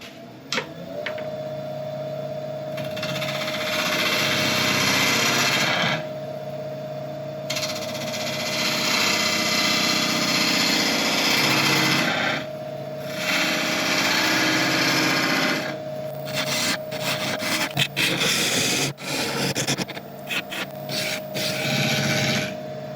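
A burl bowl spins on a wood lathe while a tool cuts a small chamfer, giving a rough, scraping whir with a steady motor hum, broken by short pauses between cuts.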